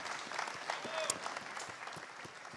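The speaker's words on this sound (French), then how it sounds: "On les applaudit bien fort." An audience claps steadily and warmly after a start-up pitch at a company's start-up competition final. The applause is dense, even and continuous throughout, with a faint murmur of voices in the crowd.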